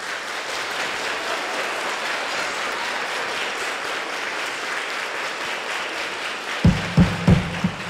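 An audience applauding at a live comedy show, a steady wash of clapping from many hands, with a few sharp louder claps or knocks near the end.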